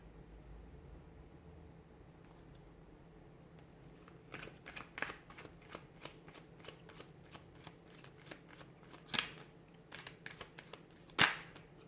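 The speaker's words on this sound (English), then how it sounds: "give the cards a shuffle" A deck of tarot cards being shuffled, soft riffling and flicking in a quiet room, starting faint and building into a series of sharp card snaps and taps toward the end.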